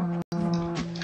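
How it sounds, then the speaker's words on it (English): A video game cow lets out a single loud, close moo, a sustained droning low call cut by a brief gap of silence near the start, with no talking over it. "Hey, that's my cow."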